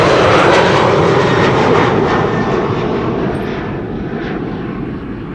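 An Eastern Airways airliner departing Amsterdam Schiphol Airport, its engines giving a loud, broad roar that is strongest at the start and then slowly fades as the aircraft moves away, with no other sounds over it.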